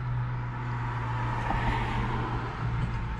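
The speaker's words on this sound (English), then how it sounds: "We're in my buddy's old Dodge pickup truck." Cabin of an old Dodge pickup truck on the move, a steady low engine drone and road rumble filling the whole stretch at fairly loud, close level, no talking.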